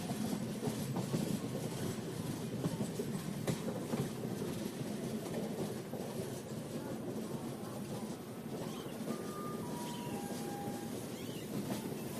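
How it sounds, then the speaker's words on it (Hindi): The Sikkim Mahananda Express rolling into Khurja Junction, recorded from on board as a continuous, steady rumble of wheels and carriages with faint rhythmic clatter and a brief high squeal near the end. "तो चलिए अपनी ट्रेन का होने वाला है थोड़ी देर में खुर्जा जंक्शन के प्लेटफॉर्म नंबर 3 पर अराइवल"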